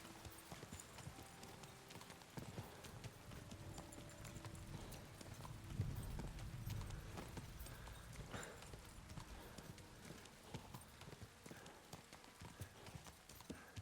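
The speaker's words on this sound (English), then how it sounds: "Pebbles, you are the best horse." Rapid hoofbeats of a galloping horse in Kingdom Come: Deliverance II drum steadily throughout, with some faint game background sounds mixed in.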